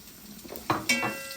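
Pancit noodles sizzling in a pan while being stirred, brief scraping and clattering of a utensil against the pan over a soft hiss, heard up close.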